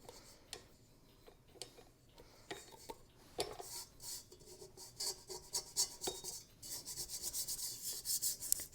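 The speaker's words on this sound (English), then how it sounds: "Get all that excess dough off the side." Excess dough gets scraped off the side of a mixer bowl for chicken and noodles, a close, quiet rubbing and rasping with scattered ticks and clicks that grows busier and louder toward the end.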